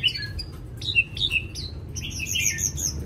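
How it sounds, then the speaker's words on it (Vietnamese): Several caged songbirds, such as a magpie robin, hwamei and bulbul kept at home, sing and chirp together in bright, overlapping phrases of quick, clear whistles and tweets, close by over a low steady background rumble. "đấy là vẫn hót lai dai suốt ngày ở trong, mà nó hót nó không quá bị gắt"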